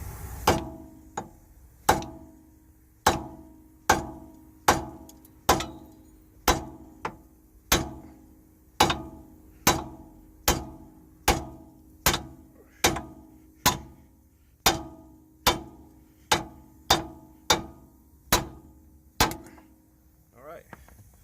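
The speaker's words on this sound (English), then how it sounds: "So we'll go ahead and knock it out right quick." A hammer repeatedly strikes to drive out a lower ball joint on a Mercury Mountaineer, roughly twenty sharp metallic knocks at a steady pace with ringing decay, loud and close, with no talking.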